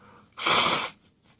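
A single short, forceful nose blow, a burst of rushing air lasting about half a second, close by in a quiet room.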